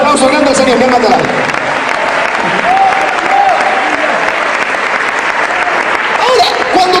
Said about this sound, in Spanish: Den una ofrenda de aplauso grande al Señor